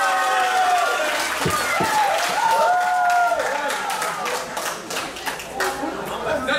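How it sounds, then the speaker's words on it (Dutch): An audience at a boxing match claps and cheers steadily, with chatter throughout, while an announcer's voice carries over the applause. "En ook, dames en heren, een enorme applaus voor het zijfhuis van Hompel."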